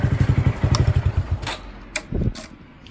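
Car engine fitted with an aftermarket eBay exhaust, silencer insert removed, revs in short rhythmic throbbing pulses, then settles into lower rumbles and a brief second burst, close and loud with no talking.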